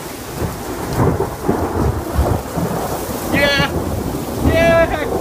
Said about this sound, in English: Oh my god, that's hail.